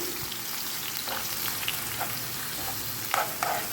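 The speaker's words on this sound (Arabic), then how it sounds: "هنا نقلي البصل مليح" Onions frying in oil for molokhia give a steady close sizzle and crackle throughout, with a few stirring scrapes and louder pops near the end.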